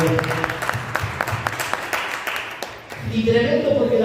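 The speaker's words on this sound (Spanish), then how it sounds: "Yo le regalaría una ofrenda de aplauso al Señor por esa palabra" A church congregation claps during a worship service, a brisk burst of hands that fades after a few seconds as a voice begins speaking.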